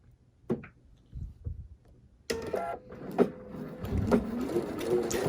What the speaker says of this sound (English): I'm just going to stitch one at a time.